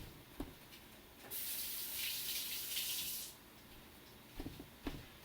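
Tap water running over broccoli sprouts in a kitchen sink, a steady hiss of flow for about two seconds between a few soft clunks and handling sounds, close and moderate in level.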